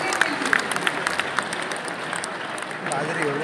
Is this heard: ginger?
no